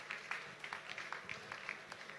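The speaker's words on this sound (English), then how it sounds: "Let's keep clapping, please." A conference audience claps in a loose, steady patter of many hands, moderately loud and continuous for a couple of seconds.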